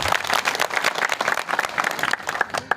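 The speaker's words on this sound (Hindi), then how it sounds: "अपने लिए पहले जोरदार ताली बजा लो" A rally crowd at a large protest gathering claps loudly and vigorously, close, dense and uneven bursts of many hands continuing throughout.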